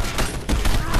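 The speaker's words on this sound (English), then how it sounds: "they're shooting at me" Rapid bursts of gunfire from enemies in the action game Condemned 2, loud and close, crackling continuously through about a second with a voice speaking over the shots.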